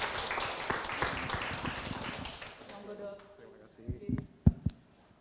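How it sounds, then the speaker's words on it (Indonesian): Audience applause at a hospital community gathering, dense clapping filling the first few seconds, then thinning out into scattered claps and a few louder taps near the end. "tepuk tangan yang meriah untuk dokter Hadi."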